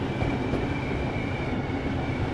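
A Class 700 Thameslink train rumbles past in Train Sim World, a steady, loud rolling roar of wheels on rail with a faint high whine running throughout, no voices over it.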